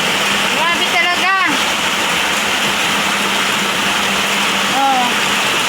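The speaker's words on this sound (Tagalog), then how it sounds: "Pinasok ng tubig yung kulungan nila." Continuous heavy rush of floodwater pouring into a pen of piglets, loud and steady, with brief high piglet squeals and a voice speaking over it at moments.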